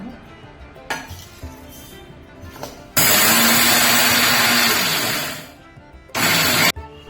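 A mixer grinder whirs loudly as it grinds roasted dry spices into a coarse powder for goda masala, running about two seconds in one burst and briefly again later, with quieter clinks of utensils between runs.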